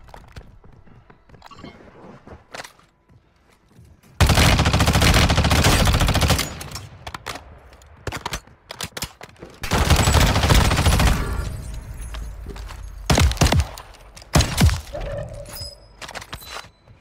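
Gunfire in the shooter Warzone Mobile rings out in loud sustained automatic bursts and separate sharp single shots between quieter stretches of game noise.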